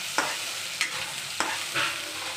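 Ginger and garlic paste splutters in hot oil with a continuous hiss. Sharp pops and spatters break through it about four times. The frying sounds close and runs alone without voices.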